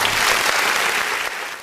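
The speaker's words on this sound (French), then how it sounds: "merci de faire un tonnerre d'applaudissements pour notre numéro 1" Audience applause, a loud, continuous wash of many hands clapping together, steady throughout and tapering slightly at the end.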